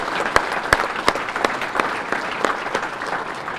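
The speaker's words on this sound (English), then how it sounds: "Let's give her a round of applause." A seated dinner crowd at a chamber of commerce banquet gives a round of applause for a woman, dense clapping with a few louder nearby claps standing out, held steady for a few seconds.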